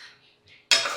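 A spoon scrapes and clinks against a pot of freshly boiled kadhi with chopped coriander and salt, a few soft strokes followed by a louder, bright clatter of metal near the end.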